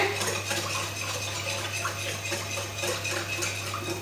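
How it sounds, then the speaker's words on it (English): A whisk beats an activating yeast mixture with salt in a bowl for cinnamon doughnut dough, producing steady, close scraping and clinking against the bowl over a constant low hum. "So whisk that together."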